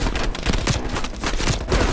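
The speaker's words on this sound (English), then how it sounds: "Heavy MG on the ridge." Heavy machine gun fire in Call of Duty Black Ops Cold War: rapid, continuous bursts of thudding shots, loud and close, with no talking over them.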